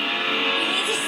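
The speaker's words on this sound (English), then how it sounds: "What was that for a crash?" A car in a TV drama skids hard with a sustained tire squeal and engine roar, loud and close, filling the full short moment, with voices mixed in beneath it.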